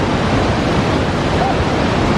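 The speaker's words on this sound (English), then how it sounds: "You can see the waterfalls," Iguazu Falls on the Brazilian side sends up a loud, unbroken roar of rushing water, a dense steady wash with no pauses.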